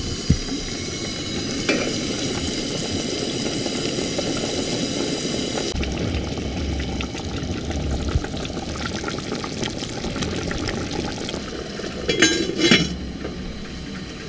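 Beef braise broth heating toward a boil in a pot on a stove in a van, a steady close hiss and bubbling with a few faint clinks and no talk.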